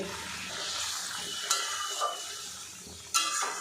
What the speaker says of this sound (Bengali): এবারে এর মধ্যে ভেজে রাখা পেঁপে আর মুগ ডালের বড়াগুলো দিয়ে দেব।